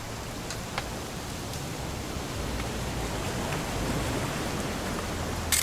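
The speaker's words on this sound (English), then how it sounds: "gonna rain the whole weekend, isn't it?" Steady rain pours throughout a scene in the video game What Remains of Edith Finch, a dense even hiss with a few faint drop ticks, and no voices over it.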